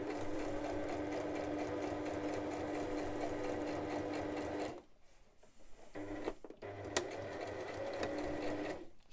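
A sewing machine runs a straight stitch with a steady, fast mechanical whir, then pauses briefly and resumes with a few short bursts and clicks, close and continuous.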